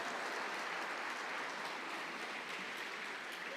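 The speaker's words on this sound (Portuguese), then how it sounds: "Pode aplaudir o Senhor" A church congregation applauds in a steady, dense wash of clapping that continues evenly throughout, moderately loud and without a break.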